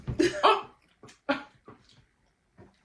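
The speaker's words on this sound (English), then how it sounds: "Someone's got hiccups." Someone hiccups while eating a meal of Indian food such as butter chicken and biryani, with a few short, close, abrupt bursts separated by brief pauses.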